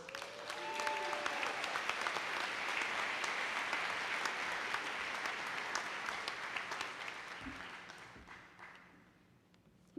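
Sustained applause from an audience at a college commencement ceremony, steady and full for most of the stretch before tapering off near the end, with no talking over it.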